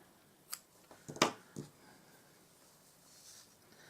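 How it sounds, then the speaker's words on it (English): Scissors snip off a leftover yarn end on a small crochet flower: a few quiet, sharp clicks close together near the middle, then a last one before near silence. "I'm going to cut that straggler off because that's well sewn in"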